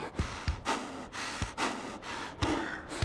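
Volatile creatures in the game Dying Light 2 breathing in harsh, raspy gasps and snorts, about six rhythmic heaving breaths over a few seconds, close and moderately loud with no talk.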